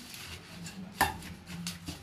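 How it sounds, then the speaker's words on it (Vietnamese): Fried dried snakehead fish is torn by hand into a salad, giving a soft crackling rip with one sharp crisp snap in the middle, faint and close, with no one speaking. "xé vô liền cái khô"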